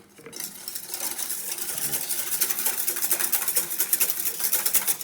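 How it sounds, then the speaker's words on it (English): Continuous clinking and scraping of a utensil mixing jelly with boiling water in a bowl, steady and close, with no voices. "you put the boiling water on top and you mix that through"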